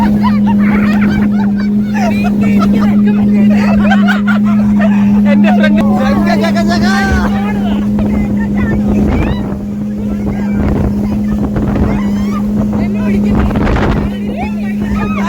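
A speedboat at sea off Calicut beach, a loud steady engine drone with wind buffeting and water splashing as it rides through waves, while people talk and exclaim over it.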